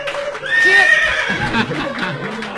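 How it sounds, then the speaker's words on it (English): A loud horse whinny sound effect rings out on stage at a live comedy show. The single drawn-out neigh lasts about a second, with room noise and voices underneath. "The horse of truth, everybody."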